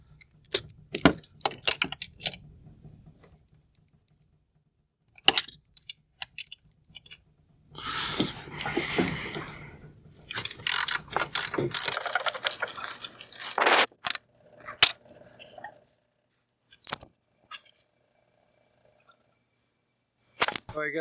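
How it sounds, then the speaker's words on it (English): A 3/8 inch drive ratchet, stepped down to 1/4 inch with an adapter, turns a 14mm socket on a bolt in a 2013 Chevy Duramax engine bay, giving bursts of close, quick clicking with pauses and some handling noise between strokes. "I've got my 3/8 inch drive ratchet with an adapter to turn it down to a 1/4 inch with a 14mm socket."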